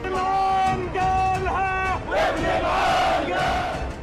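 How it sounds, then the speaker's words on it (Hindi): A street protest crowd in Amman, Jordan, chants slogans against Israel in loud, rhythmic unison, with a leading voice answered by the mass of shouting voices and a surge of crowd noise near the end. "अम्मान में लोग सड़कों पर उतर आए। इजराइल के खिलाफ नारेबाजी शुरू हो गई।"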